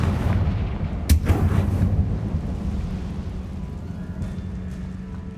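In Hogwarts Legacy, a Confringo blasting spell goes off as one sharp, booming explosion followed by a rumbling decay, under a low steady game ambience.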